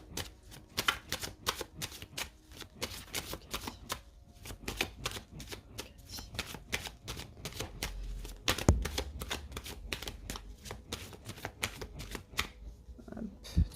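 A tarot card deck shuffled by hand, a close, dense run of crisp riffling flutters repeating steadily with a brief thump midway.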